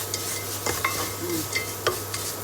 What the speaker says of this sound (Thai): คั่วให้หอมค่ะคั่วกับไอ้อบเชย แล้วก็ ผงพะโลค่ะ